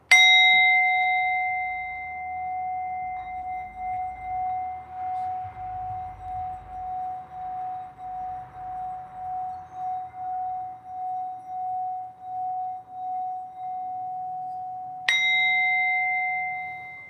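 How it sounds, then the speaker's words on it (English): A bell is struck once and rings out clear and pure, its tone wavering as it slowly decays, then a second strike near the end brings a fresh bright ring. "So let's hit the bell a little bit."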